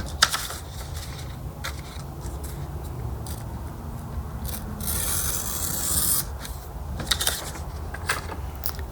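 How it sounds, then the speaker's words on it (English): A craft knife slicing through junk mail paper to trim excess around a window cutout, giving soft continuous rasping scrapes with brief sharper cuts, close and alone. "use my knife again to cut the excess"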